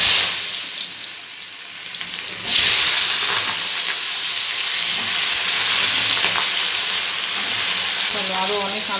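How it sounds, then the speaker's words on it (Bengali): Potatoes dropped into hot oil in a pan burst into a loud, steady sizzle and hiss that continues throughout, with a few stirring clatters and a quieter, gentler frying sound before the potatoes go in. "তেলটা না গরম হয়ে গেছে, এবার আলুটা দিয়ে দিই।"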